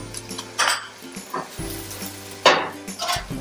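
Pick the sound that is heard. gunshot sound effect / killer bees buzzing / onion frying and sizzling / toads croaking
onion frying and sizzling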